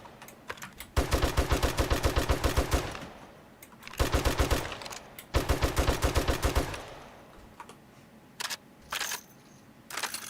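Automatic gunfire in the video game 7 Days to Die, sprayed at houses in three long rapid bursts of roughly two seconds each, loud and close, followed by a few short isolated shots.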